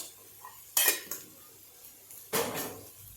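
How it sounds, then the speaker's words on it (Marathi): A spoon stirs green pea karanji filling, mixed with lemon juice, sugar and fresh coconut, in a bowl, giving two brief scraping clinks against the bowl separated by a quiet pause, close and alone. "परत एकदा याला व्यवस्थित हलवून घ्यायचं"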